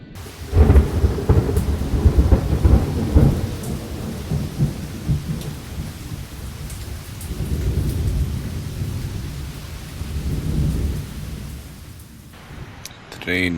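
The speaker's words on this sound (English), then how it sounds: "Rain. It was a thunderstorm." A thunderstorm rolls over a tent camp by the Neretva River in Bosnia, with heavy rumbling thunder and steady rain drumming throughout, the rumbles swelling and fading before a quieter end.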